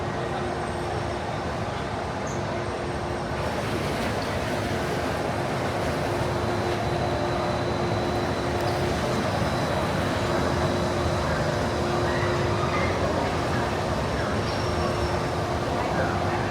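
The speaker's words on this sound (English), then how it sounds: "Here comes the monorail." A Disneyland monorail rolls past with a steady rumbling hum and a faint whine, continuous and moderately loud, as a person speaks over it.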